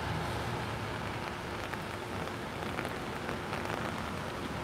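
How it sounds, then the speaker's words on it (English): Heavy rain pouring down outdoors near the White House in Washington DC as a big storm arrives, a dense, steady hiss of drops hitting surfaces close by, with no talk. "Can you see the rain coming down?"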